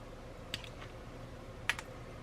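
Small cutters snip plastic model hubcaps off the sprue, two sharp close clicks about a second apart over a quiet room background.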